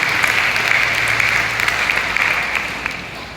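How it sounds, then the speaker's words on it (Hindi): Loud, sustained applause from an audience at a business motivational talk, a continuous wash of clapping that holds evenly and fades a little at the close, with no voices on top. "जोरदार तालियां"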